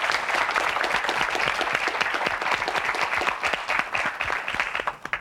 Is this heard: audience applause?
yes